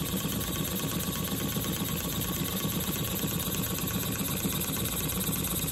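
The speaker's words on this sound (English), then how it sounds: "These castings were for a Stuart 10H engine. This is running on 4 psi of air pressure." A Stuart 10H model steam engine runs on 4 psi of compressed air. It gives a steady, even chuffing and mechanical clatter, close and constant, with no voices.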